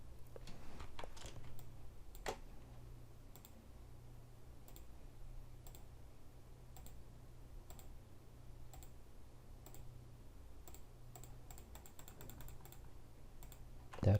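Computer keyboard keys are pressed during Photoshop work, scattered single taps with a quick cluster of keystrokes near the end and a final Enter press, faint and close over a low steady electrical hum.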